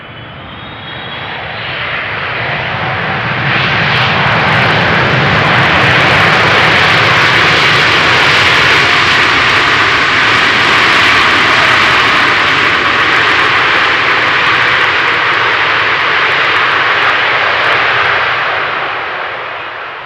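A fixed-wing airplane arriving on runway 18R at Amsterdam Schiphol in a left crosswind roars steadily and loudly, swelling in and fading slightly as it passes close overhead, with no talk.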